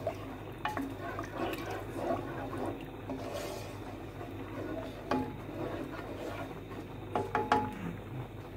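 A second cup of liquid is poured into a pot of milky broccoli soup, giving faint trickling and splashing with a few soft clinks and knocks against the pot; no one speaks.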